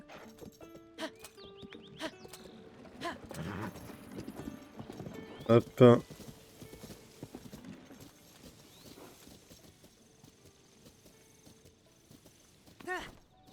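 Horse hooves clip-clop in the video game The Legend of Zelda: Tears of the Kingdom, a scattered run of steps with a couple of louder thuds mid-way, while someone talks over them.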